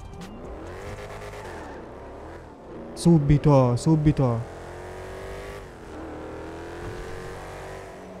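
A sports car in GTA 5 revs hard while stationary, the engine climbing in sharp bursts over a running idle, with someone talking excitedly over it before and after the revving.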